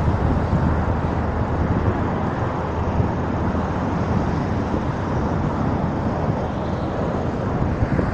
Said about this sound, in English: And right now you can see the other plane landing.